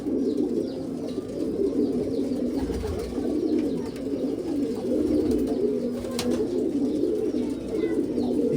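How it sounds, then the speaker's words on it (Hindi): Pigeons cooing steadily in low, soft murmurs, several birds overlapping close by, with faint chirps and background hum. "दोस्तों ये कबूतर नए हैं वकील खलीफा के।"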